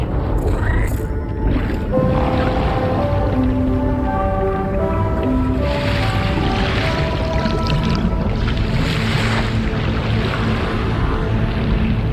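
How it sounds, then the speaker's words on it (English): The DHV Magellan in Death Stranding 2 discharges its tar ballast tanks and surfaces: a loud, deep, sustained rush and gurgle of draining fluid with long groaning, whale-like tones over a constant heavy rumble. "Discharging tar ballast tanks. DHV Magellan surfacing."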